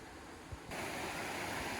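River rushing steadily past a riverside campsite by the Nantcol waterfalls, a broad, constant wash of flowing water that swells louder partway through, with no voices.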